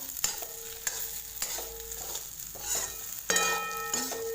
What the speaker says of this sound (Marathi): फ्राय करायचा थोडासा गरम कढईमध्ये तो होऊन जातो